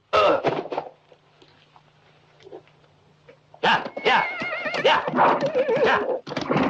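Horses whinny and snort close by, a sharp burst at the start, then a near-quiet lull before a long, loud stretch of overlapping neighs and shuffling movement.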